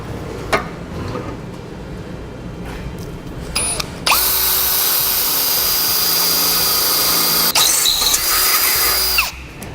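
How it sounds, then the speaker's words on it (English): A power drill whines loudly and steadily for several seconds boring a pilot hole through the bumper core of a 2015 Ford Fiesta, with a short pause midway, after some quieter handling clicks and knocks. "we'll drill on down through our bumper core here"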